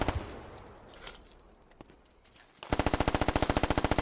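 In the tactical shooter Squad, distant muffled gunfire and ambient noise give way to a sharp, rapid burst of machine gun fire, evenly spaced shots rattling for over a second at the end.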